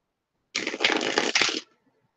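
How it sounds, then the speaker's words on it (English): A deck of cards riffle-shuffled once up close, a crisp burst of flapping, ruffling card sounds lasting about a second before stopping cleanly. "One more shuffle."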